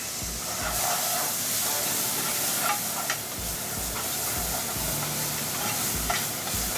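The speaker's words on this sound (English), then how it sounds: "just brown your mushrooms on" Mushrooms brown in a hot frying pan, giving a steady close sizzle and hiss with occasional soft scrapes and clicks of stirring, with no voices over it.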